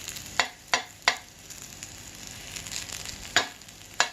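Veg cutlets frying in oil in a home kitchen, a steady soft sizzle broken by several sharp crackles and spits, close and moderately loud with no talking.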